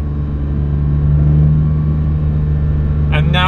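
A Porsche GT3 hums along at a steady drone from inside the cabin while driving up a mountain pass, a low continuous engine rumble with a brief voice near the end.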